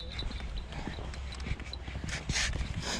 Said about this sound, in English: You went over that cattle grid.